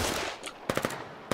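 Gunfire in the online war game Foxhole: a quick cluster of three sharp shots, then another lone report a moment later, crisp and fairly close against a low background.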